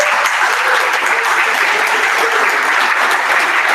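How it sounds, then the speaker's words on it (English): Audience applause at a San Francisco Bitcoin meetup held in a Galvanize space, a dense, loud, continuous wash of many hands clapping at once, steady throughout without a clear fade. "Round of applause."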